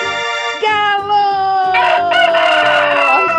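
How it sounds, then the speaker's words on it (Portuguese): A rooster crows loudly and up close in one long, drawn-out call, set against steady background music in a children's farm-animal sound game. "Galo!"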